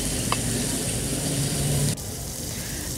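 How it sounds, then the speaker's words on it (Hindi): Ingredients with red chili frying in a pan for a protein salad, a steady close sizzle that drops slightly quieter midway. "तो अभी इसको मैं थोड़ा सा फ्राई कर लूँ"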